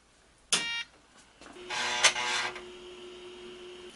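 The floppy drive of a Tandy 1000 EX computer seeks in short mechanical bursts: a sharp click-burst, a pause, then a longer buzzing grind that settles into a faint steady hum, close and fairly quiet.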